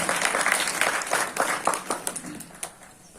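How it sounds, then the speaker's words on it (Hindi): Audience at a magic show applauds as a guest is called to the stage, a dense burst of clapping that thins out and fades over a few seconds, with some talk underneath. "जोरदार ताली बजाइएगा सभी का"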